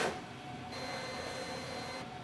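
Steady mechanical whirring of a Brother MFC-L2750DW printer-scanner running through a pass, with a faint high tone in the middle, constant and close.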